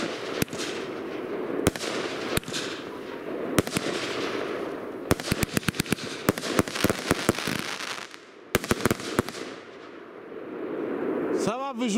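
A long string of sharp bangs from a firework battery launcher, some isolated and some in quick rapid bursts, over a steady crackling, rumbling background, ending with a rising whistle.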